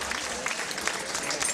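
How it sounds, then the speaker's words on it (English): A high school reunion audience applauds the organizing committee, a steady wash of clapping from a crowd in a hall with some voices mixed in. "Yes, they deserve a round of applause."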